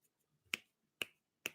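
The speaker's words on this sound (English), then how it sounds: "I can't snap my fingers." Three crisp finger snaps come one at a time with short pauses between them, each a dry, close click in an otherwise quiet room.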